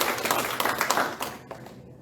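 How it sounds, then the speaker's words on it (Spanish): Congregation applauding during a church sermon, a steady burst of many hands clapping close by for about two seconds, then fading toward the end. "Denle un aplauso al Señor si usted lo percibe así."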